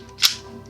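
A PX4 Storm airsoft gas pistol fires a single sharp crack with a quick mechanical snap as the slide cycles, close and loud, alone.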